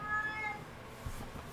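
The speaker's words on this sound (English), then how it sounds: "I don't know if you guys heard that. It's my cat." Pet cat meowing once, a brief faint mew early on, then quiet room tone with a small knock; no talking.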